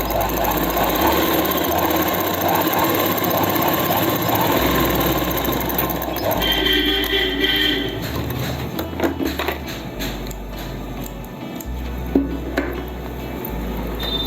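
A sewing machine stitching elastic into a plazo pant, rapid mechanical whirring and clatter in several bursts with short pauses between runs, close and fairly loud.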